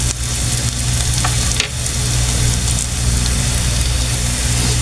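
Vegetables for Filipino pakbet sauté in a hot pan, a steady dense sizzle that holds close and loud for the whole stretch with a brief clatter near the middle, no talking over it.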